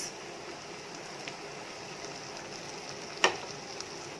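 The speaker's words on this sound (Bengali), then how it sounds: "এরপর আমি অ্যাড করছি টমেটো কেচাপ বা টমেটো সস।" Red chilli powder and tomato ketchup go into a hot pan for a homemade barbecue sauce, giving a faint, steady sizzle with one brief clink partway through. No one speaks.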